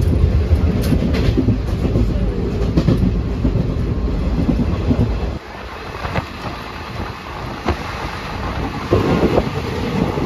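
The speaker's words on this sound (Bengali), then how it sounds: "আর এটা হচ্ছে হাওড়া মালদা টাউন রামপুরহাটের এক্সপ্রেস, হাওড়ার দিকে যাচ্ছে" The Howrah–Malda Town–Rampurhat Express heads toward Howrah as a passing train: a loud, close rumble and clatter of wheels that drops sharply midway, then continues rougher and quieter to the end.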